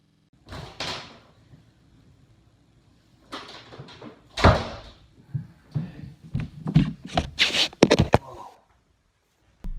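A door and other objects slam indoors in a series of sharp, hollow bangs: one early hit, a pause, then a rapid cluster of knocks and thuds. The sounds come from nearby and there is no talk.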